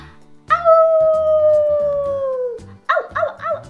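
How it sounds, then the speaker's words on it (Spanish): A wolf howls in one long, loud, slowly falling tone, then gives a few shorter rising and falling howls, with a low background of music beneath. "¡Un lobo! Sí, un lobo."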